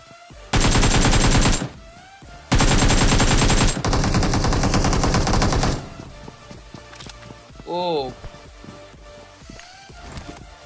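Gunfire in the PUBG video game: two long, loud bursts of rapid automatic fire, then a shorter stretch of shots, followed by softer thuds and a brief mechanical chirp from the game.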